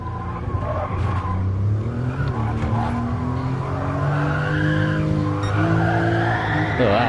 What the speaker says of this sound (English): Just power slide the whole thing.